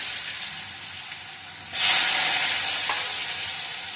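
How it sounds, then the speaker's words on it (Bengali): Eggplant slices, soaked in turmeric and salt water, hit hot oil with a sudden loud sizzle that settles into a steady, close frying hiss, with no voices. "এখন তেলে ফেলবি।"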